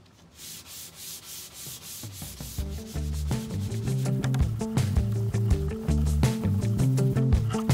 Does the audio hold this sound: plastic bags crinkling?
no